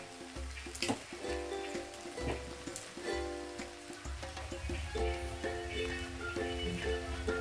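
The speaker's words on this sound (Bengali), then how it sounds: "দিয়ে ছোলের সঙ্গে ভালো করে নাড়াচাড়া করব" Rice and chickpeas for chhole rice are stirred in a pan, with a rattling, rain-like patter over a low hum and repeated scraping strokes at a steady, moderate level.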